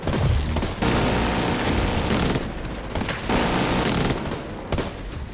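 Sustained automatic gunfire in the video game The Division 2 during a raid, loud dense bursts of rapid shots broken by brief pauses, filling the mix.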